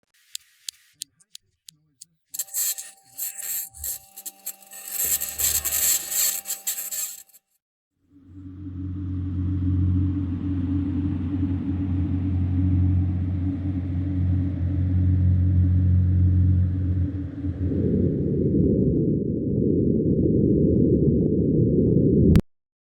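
Sound captured on the surface of Mars: a hollow, steady low rumble like wind buffeting, lasting most of the stretch and then swelling into a louder, broader rush near the end, after an earlier burst of crackly noise.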